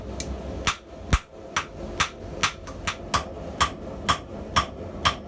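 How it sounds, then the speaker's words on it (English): A YK30 power hammer strikes hard steel being forged for scissors. Sharp, loud blows land at a fairly even rhythm, about a dozen over several seconds, close by, with no talking. "I go to my YK30 hammer to match the steel that I'm hammering on."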